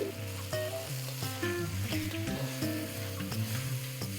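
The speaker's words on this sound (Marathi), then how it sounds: "आपण ह्या सॉसेसमध्ये व्यवस्थित परतून घेऊया" Vegetables sauté in sauces in a pan for street-style Schezwan noodles, giving a soft, continuous sizzle with occasional stirring clicks under a quiet melodic background.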